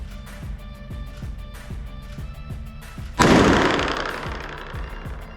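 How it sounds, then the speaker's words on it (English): A .44 Magnum round strikes a Team Wendy EPIC Specialist helmet in one sharp, loud outdoor gunshot with a decaying boom, preceded by a steady series of faint rhythmic taps. "So 5 rounds, the last one was a doozy. So we're talking about a 44 Magnum"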